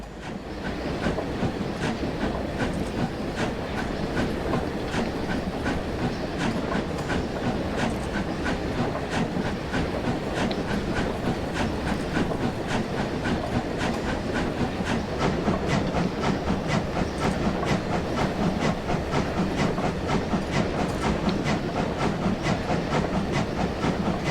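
A narrow-gauge Brockenbahn train in Train Simulator Classic rolls along the track with a continuous loud rumble and a steady clickety-clack of wheels over rail joints, droning evenly throughout with no speech.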